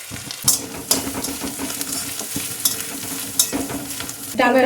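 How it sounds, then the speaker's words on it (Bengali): Radhuni seeds, dry red chilli, a bay leaf and grated coconut sizzle steadily in hot oil for a Bengali vegetarian dish, with a continuous crackling fry broken by sharp spoon scrapes against the pan and a louder burst of spitting at the end. "এবার এই তেলে ফোড়ন দিদি রাঁধুনি আর শুকনো লঙ্কা একটা তেজপাতা দিয়ে দাও নারকেল কোড়া"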